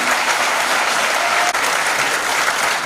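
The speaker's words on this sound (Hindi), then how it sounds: "इसमें हमारे साइंटिस्ट के लिए तालियां बजनी चाहिए" Audience at a national seminar clapping for scientists, a dense, sustained burst of applause filling the whole stretch at an even, loud level.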